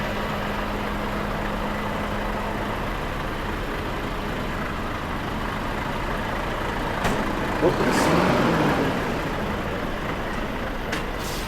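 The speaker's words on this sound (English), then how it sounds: "That's just 2 lorries." Lorries being packed up during the pull-down at Hull Fair, a steady diesel engine rumble with a brief louder burst midway, and people talking nearby.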